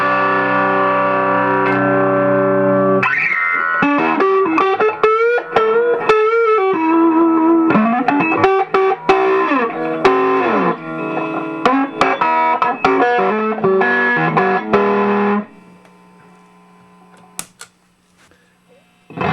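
An electric guitar runs through a Titano Magnatone amplifier fitted with Yellow Jacket EL84 tubes in place of 7591s, at full drive with overdrive. Sustained chords give way to busy, crunchy riffing, loud and close, then fading to faint noise.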